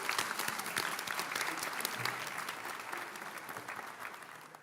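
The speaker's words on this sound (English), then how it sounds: "So a round of applause for the parents and family and the school." A crowd claps steadily through an annual scholarship awards program, honoring families and the school. The sustained, fairly loud applause is dense and even, holding throughout with only a slight easing toward the end.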